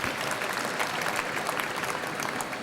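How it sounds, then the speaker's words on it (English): An audience at an evening political gathering claps for a dog, producing dense, steady applause from a crowd that holds at an even level throughout, with no voice over it. "give this dog a round of applause"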